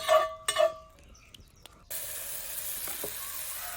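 A dosa sizzles on a hot pan, starting after a few sharp clinks and scrapes with a steady close hiss that holds to the end, no voices present.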